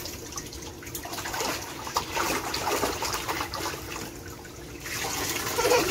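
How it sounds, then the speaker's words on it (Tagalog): Shower water runs steadily in a continuous hiss and splash, close and fairly loud, with no talking. "Ito may shower."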